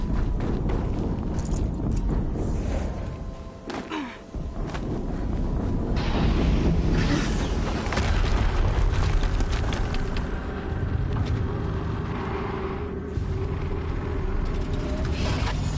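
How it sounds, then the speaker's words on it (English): Explosions in the video game Horizon Zero Dawn rumble and crash through dense, noisy game audio. Several loud bursts come and go over a constant roar, and no one is talking. "Another explosion."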